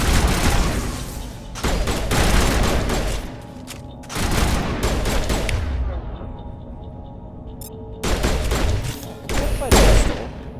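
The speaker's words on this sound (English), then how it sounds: "I just literally pulled out my gun, and I pulled out the sniper rifle." Rapid, loud bursts of gunfire from the video game Mass Effect Legendary Edition, fired in several sustained volleys separated by brief pauses, with booming impacts and a faint electronic tone between the bursts.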